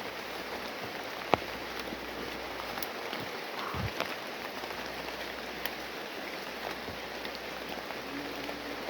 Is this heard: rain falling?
yes